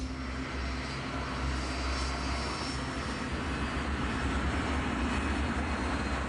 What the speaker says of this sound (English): As the aircraft climbs out of Heathrow, Key, at the controls